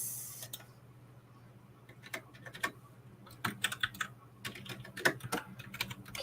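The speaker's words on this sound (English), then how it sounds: "my keyboard is super loud" A loud gaming computer keyboard clatters under quick typing, sharp irregular key clicks coming in bursts over a faint steady hum, fairly close and with no talking.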